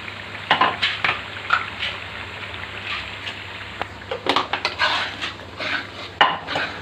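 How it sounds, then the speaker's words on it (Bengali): Cardamom and cinnamon spice masala being fried and stirred in a pan, with repeated clinks and scrapes of a utensil against metal over a low steady sizzle. "এখন আমি মশলাটাকে ভালো করে কষিয়ে নেব"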